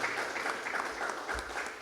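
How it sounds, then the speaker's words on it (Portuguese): A church congregation at a men's worship service claps for the Lord, a soft, even patter of many hands continuing throughout at moderate distance. "Dá uma salva de palmas ao Senhor."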